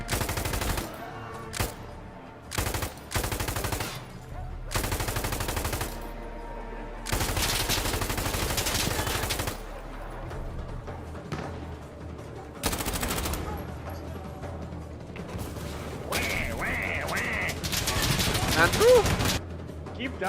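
Video game gunfire rattles in repeated loud bursts, some short and some long automatic strings, separated by brief gaps, with the shooting growing denser toward the end.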